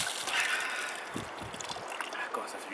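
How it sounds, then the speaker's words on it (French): Water sloshes and splashes in short bursts as someone rinses off from a basin outdoors after a two-day hike, the splashing close and fairly soft against a hissy background. "Là c'est le rinçage."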